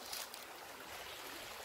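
A small stream trickles through a campsite, a faint, steady watery rush.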